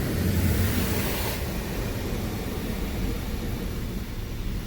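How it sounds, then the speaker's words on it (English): High-velocity rinse jets of a Belanger Vector touchless car wash spraying water, a steady loud broadband hiss that holds throughout, slightly brighter at the start, with no talk. "So now we're getting some of our high velocity rinse"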